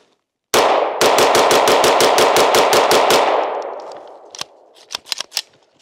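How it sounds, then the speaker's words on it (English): Fast burst of 9mm gunfire from a Bear Creek Arsenal bufferless upper on a 9mm lower, about a dozen sharp rapid shots in a tight rhythm, then an echoing tail and a few scattered clicks and clatters. "Try another mag real quick. Try the P-Mag 27."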